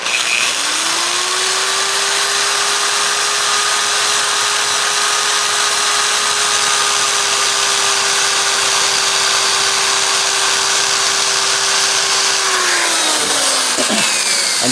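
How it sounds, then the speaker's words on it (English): A power drill grinds the bowl area of an E7 cylinder head, spinning up and holding a steady high-pitched whine for about twelve seconds before winding down, loud and close with no talk. "if you're using a drill like this, you have to remember not to go and let the drill itself hit your seat either"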